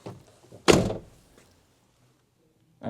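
A car door shuts once with a solid, close thunk during work on a locking fault, followed by a fainter knock and near silence, then another sound at the very end.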